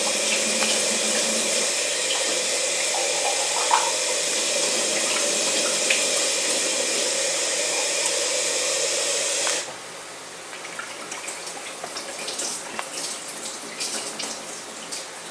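Kitchen tap water runs steadily in a strong hiss over a sink while ingredients for spaghetti olio are rinsed, then the flow stops and soft handling clatter follows.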